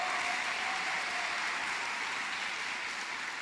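A church congregation claps in a continuous, even wash of applause, heard at a moderate distance and holding steady for a few seconds without clear voices.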